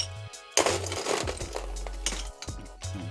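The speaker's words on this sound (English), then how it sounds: "I'm just going to ice up my rocks glass as well" Ice being loaded into a cocktail shaker and a rocks glass while mixing a daiquiri, heard as a loud burst of clattering, clinking cubes followed by several more sharp clinks close by.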